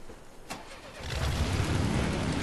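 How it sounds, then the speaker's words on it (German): A buggy's engine starting in the video game Far Cry 2: a short starter click, then a low rumbling engine catches and settles into a steady, loud idle. "Diesmal nehme ich den Buggy und fahre woanders lang."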